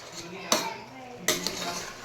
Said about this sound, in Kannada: ಈಗ ಚೆನ್ನಾಗಿ ಮಿಕ್ಸ್ ಮಾಡ್ಕೊಂಬಿಡೋಣ ಈ ರೀತಿ.